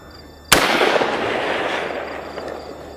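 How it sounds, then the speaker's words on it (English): A rifle firing its first round down range during a function test, one sharp loud report at close range followed by a long rolling echo that slowly fades, no voices. "First round down range, we want to see if we're going to lock back"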